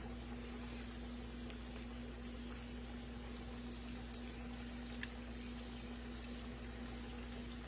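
Chicken strips fry in hot grease with a steady, soft bubbling sizzle and a few faint pops, low in level and unbroken, with no talking over it.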